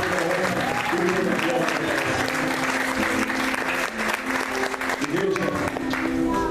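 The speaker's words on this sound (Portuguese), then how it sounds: "Você pode aplaudir o nome do Senhor Jesus" A church congregation applauds together in a steady, dense wash of clapping that fills the space, with singing or voices carrying on beneath it throughout.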